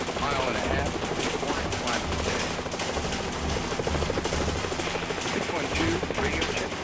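Helicopter engine and rotor chop in a search-and-rescue helicopter simulator game, a loud continuous thrumming drone that stays steady throughout.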